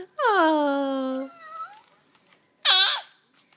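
A young child imitates a cat's meow with a long, drawn-out vocal whine, followed after a pause by a shorter second meow-like call, loud and close.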